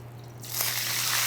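Grated potato for a restaurant rosti goes into a hot smoking pan and breaks into a bright, rising sizzle that starts abruptly partway through and holds steady, close and loud, over a low constant hum.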